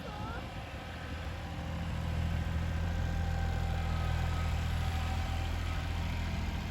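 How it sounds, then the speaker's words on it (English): A tractor engine drones steadily while the tractor maneuvers in a potato field during planting. The low hum is fairly faint and holds constant, growing slightly stronger partway through, with no clear talk. "so he has to do a lot of maneuvering with the tractor"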